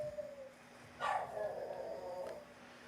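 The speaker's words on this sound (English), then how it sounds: "That dog is going crazy." A dog barks outside at cats, a single faint, distant bark standing out against steady background noise, with no talking.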